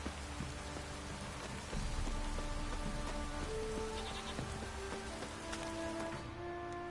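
Steady rain falls in the video game The Witcher 3, a constant soft hiss of drops on surfaces at low level, with faint sheep bleats in the background and no talk.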